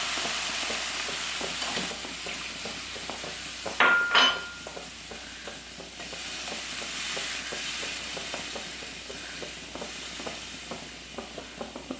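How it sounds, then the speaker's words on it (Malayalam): Water goes into a pan of chickpea curry, which then simmers and sizzles steadily for the whole stretch. A brief louder splash or clatter comes near the start, with light stirring and utensil clinks throughout. "ഇതിലേക്ക് ഞാൻ കുറച്ച് വെള്ളം ഒഴിച്ച് കൊടുക്കണം."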